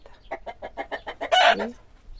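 Chickens settling into a new coop give a quick run of rhythmic clucks, close and clear, rising into one louder drawn-out squawk before falling quiet.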